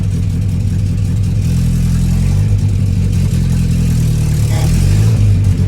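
A classic Mini four-cylinder engine, roughly 37 horsepower and running with no exhaust, drones loudly and close up with a raw, buzzy note, revving and settling as the car is driven, with no talk over it.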